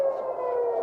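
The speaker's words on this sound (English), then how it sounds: "So you hear the sirens now, and this is all around the area that we're in Tel Aviv." Civil defense air raid sirens wail steadily across Tel Aviv, a sustained tone held at even loudness with no speech over it.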